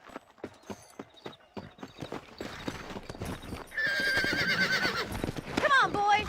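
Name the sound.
horses riding in the video game Red Dead Redemption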